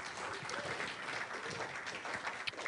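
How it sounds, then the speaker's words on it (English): An audience at a Minnesota GOP candidates forum in New Hope gives a steady round of applause, a dense, fairly even clatter of clapping heard from within the room. "Give these guys another round of applause."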